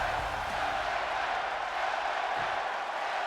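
An arena crowd in the WWE 2K24 wrestling game gives off a dense, steady roar of cheering, constant and fairly loud across the whole moment, with no one speaking over it.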